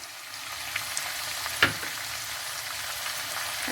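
Mixed vegetables with beetroot and beans frying in a pan, a soft even sizzle throughout with one brief clack of a utensil midway, no voices.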